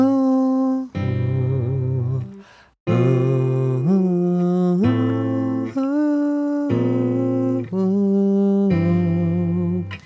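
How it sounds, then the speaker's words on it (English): An Undertale tune plays as a simple melody over sustained chords, a clean keyboard-like tone moving in steady phrases, close and without speech. "This is what the melody would sound like against these chords."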